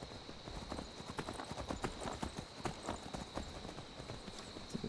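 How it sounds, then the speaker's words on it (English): Horse hooves clip-clop in a steady, even rhythm on the road in the video game Skyrim, a continuous moderately loud gallop of a ridden horse with no talk over it. "We'll hop on our horse and we'll head in that direction."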